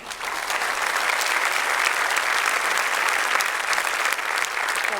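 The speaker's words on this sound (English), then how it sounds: "please, nice round of applause and join me in welcoming both of them to the stage" Steady applause from a conference audience welcoming speakers to the stage, a dense wash of clapping that holds evenly for several seconds without voices standing out.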